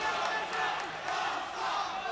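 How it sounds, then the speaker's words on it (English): An MMA fight crowd roars through the bonesaw chant, a dense and sustained wash of massed voices filling the arena at a steady loud level. "the crowd is going to bring us to the end of this fight with the bonesaw chant"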